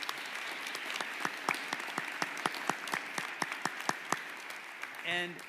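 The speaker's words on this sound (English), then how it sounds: "Can we give them a round of applause once again, please?" Applause for spelling bee contestants at Tusky Valley, a small scattering of distinct, separate claps in a quiet room, fairly faint and thinning out toward the end.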